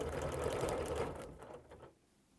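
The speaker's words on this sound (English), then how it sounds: "I'm going to take that outside circle and just stitch a few stitches over" A sewing machine runs steadily while quilting a few stitches around a circle, a busy mechanical whir that holds for about a second and a half before slowing and tapering off to near quiet.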